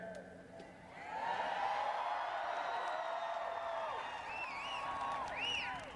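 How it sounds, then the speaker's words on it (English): A crowd at a Barack Obama campaign rally in Madison cheering, whooping and clapping, swelling after the first second and holding steady, with higher whoops rising toward the end. "This is an incredible crowd, and it's good to be back."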